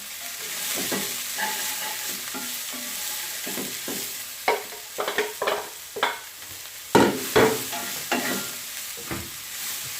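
Cabbage, carrot and garlic leaves stir-fried in a pan for chicken chowmein, a continuous sizzle broken by repeated scraping and tossing strokes that grow louder midway, close with no talking.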